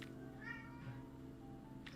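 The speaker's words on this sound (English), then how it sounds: "you can hear the sounds of a wailing cat" A cat wails in a drawn-out, faint, wavering meow against low steady room hum, with a brief second cry near the end.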